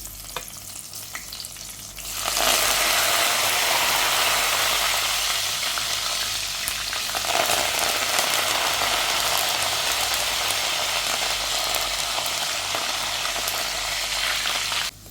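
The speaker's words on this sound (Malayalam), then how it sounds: "ഈ എണ്ണയിലോട്ട് തന്നെ പച്ചമുളകും കറിവേപ്പിലും ഇട്ട് കൊടുക്കാം" Green chillies and curry leaves hit hot oil in a pan while snack mixture is being made, bursting into a loud, steady sizzle that continues close up with stirring and no voices.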